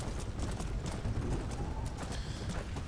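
Horse hooves clip-clop at a steady trot in the Red Dead Redemption: Undead Nightmare video game, a continuous dense rhythm over a busy game soundscape, with no talk.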